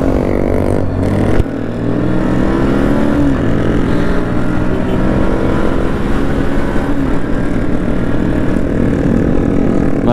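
A damaged Apache RTR 160 4V motorcycle after a crash runs loudly and steadily, a continuous droning engine roar close by with a brief dip early on, no speech.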